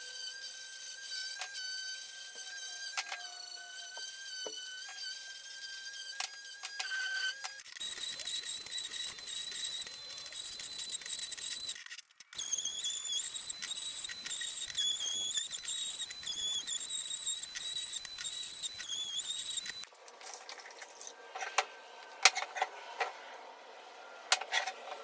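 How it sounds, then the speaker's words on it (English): A small electric palm sander working over the edges of a wooden Scandinavian-style bench, a close, whining buzz that runs in stretches, changes pitch between passes and pauses briefly. "we'll just put a light sander on them, the little palm sander, just to clean up some of these edges some"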